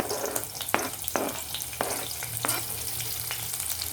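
Onions and green chillies hit hot oil in a pan for an egg fry, giving a steady close sizzle broken by sharp spatula clicks and scrapes, with no talking.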